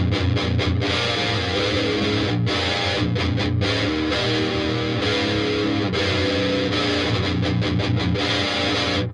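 Electric guitar played through a Howell drive plugin with gain down and volume all the way up gives a dense, distorted rock tone of loud sustained chords broken by short choppy stops.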